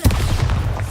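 A Bombarda blasting spell goes off in a Harry Potter video game: a close, loud, booming burst with a short rumbling tail, lasting under a second.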